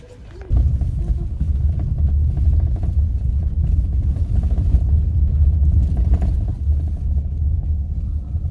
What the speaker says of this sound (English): We are just riding down that bumpy road